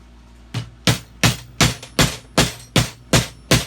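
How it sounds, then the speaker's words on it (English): Hammer blows strike wooden chicken coop parts being fixed back together, nine sharp, loud, evenly paced knocks about every third of a second, close and alone. "I'm just kind of hammering"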